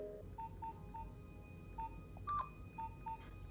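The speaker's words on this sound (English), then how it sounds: "She's gonna use the phone to call Dax." A telephone is dialed in a TV show scene, a quiet series of short beeping tones at an irregular pace, with a brief louder chirp in the middle and soft background behind.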